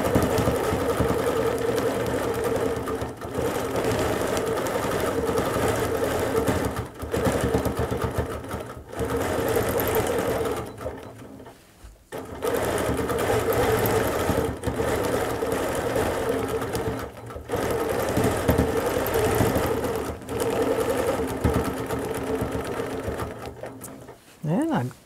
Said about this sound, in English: And I'm just going to continue quilting.